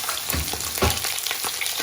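Goat meat browns in a tajine pot with a dense, close crackling sizzle and a couple of soft thuds as pieces shift, steady throughout and without speech.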